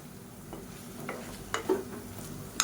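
Whole brinjals are stirred in a pan for biryani: quiet scraping strokes with a soft sizzle underneath, a few louder scrapes near the end, close and faint with no voices.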